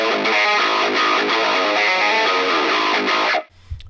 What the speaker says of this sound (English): If I want to play with a lo-fi or record a lo-fi, I load up this EQ and it does the lo-fi thing.